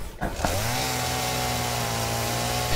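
Game chainsaw from Satisfactory revving up and cutting trees, a steady loud buzzing drone that starts after a brief dip and holds nearly unchanged to the end.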